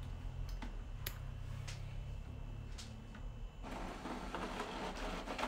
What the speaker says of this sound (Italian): Teoricamente la moneta, come state appunto sentendo, viene stampata.